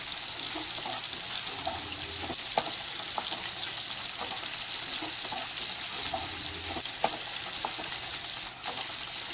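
Okra frying in a pan for a village-style bendekayi gojju, a steady bright sizzle with faint scattered pops and stirring clicks running evenly throughout, close to the pan and without talking.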